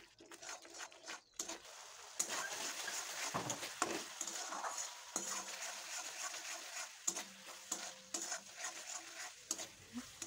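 Spice paste for doi katla frying and being stirred in a pan, a continuous sizzle broken by repeated scraping strokes of the spatula, close and fairly loud.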